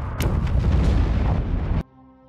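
A massive film explosion at a nuclear facility booms and rumbles with a dense, roaring blast for nearly two seconds, then cuts off abruptly into near silence.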